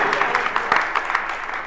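An audience at a gathering in Maharajganj breaks into brief rhythmic clapping, a short burst of crisp, moderately loud hand claps.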